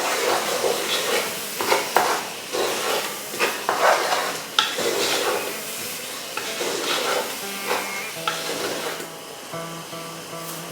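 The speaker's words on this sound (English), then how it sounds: "Give it a stir again." Masala paste with yogurt for lamb biryani is stirred in a pot, giving repeated close scraping and sloshing strokes over a soft sizzle; a few steady tones ring faintly near the end.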